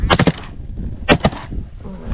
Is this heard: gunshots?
yes